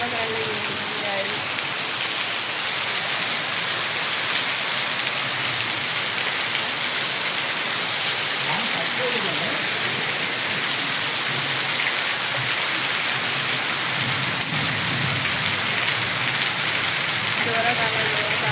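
The first monsoon shower in Devgad pours down as heavy, continuous rain, a loud, steady hiss of drops with no let-up, and voices faintly beneath it.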